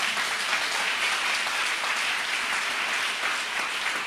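A church congregation at a marriage conference applauds steadily, a dense continuous clapping that holds at an even level throughout without pause.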